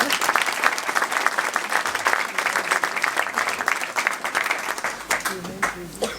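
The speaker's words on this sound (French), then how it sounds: "Oui, vous pouvez applaudir." A crowd at a New Year's greetings event for a department's artisans applauds loudly and continuously for about six seconds, the clapping tapering slightly at the end with voices mixed in.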